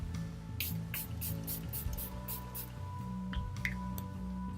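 A rapid run of short spritzes from a spray bottle of ColourPop priming spray, about eight in a row, then a few more bursts, close by over a steady background hum.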